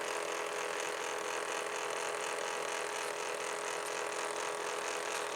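A portable mini printer feeds out a paper roll with a steady, uniform mechanical whirring and ratcheting hum that runs unbroken and moderately loud throughout.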